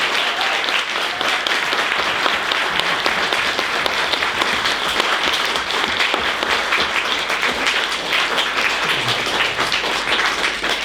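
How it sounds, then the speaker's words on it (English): An audience at a graphic design talk and Q&A applauds its panelists with dense, sustained clapping that holds at an even level for around ten seconds. "please join me in the round of applause for our distinguished panelists"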